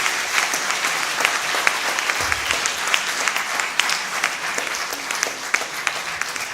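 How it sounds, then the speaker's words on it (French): Loud, sustained applause fills the hall at a closing ceremony as an award winner is called to the stage, an even, crowd-wide roar of clapping with crisp individual claps standing out throughout. "On l'invite sous vos tonnerres d'applaudissements"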